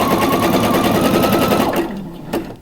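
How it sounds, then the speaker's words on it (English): A sewing machine stitches lace underwear, running steadily at close range with a continuous whirring buzz that stops near the end, followed by a brief click. "I'm going to sew until this point."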